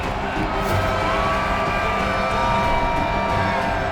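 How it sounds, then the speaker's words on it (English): Dense, steady roar of a packed stadium crowd at a Carolina Panthers game against the Rams, cheering and shouting continuously from a distance with no clear breaks. "And boy, was that stadium rocking."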